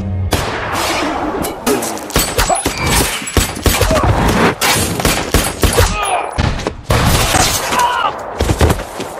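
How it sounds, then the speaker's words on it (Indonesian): Dense bursts of gunfire crackle through an action film scene, rapid volleys and single loud shots crowding together with brief gaps, loud and close throughout. "Seakan ada kekuatan yang melindungi Eli sehingga peluru tidak bisa mengenainya"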